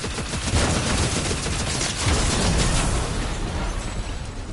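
Fortnite gunfire rattles in dense bursts, mixed with booming explosions, loud and nearly continuous throughout.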